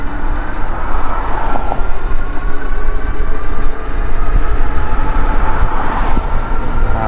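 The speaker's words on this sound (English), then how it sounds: "let's go for a throttle only top speed run here" An Electric Bike Company Model E electric bike at throttle-only top speed into a headwind, heard as loud, steady wind rush and rolling road noise with a faint motor whine underneath.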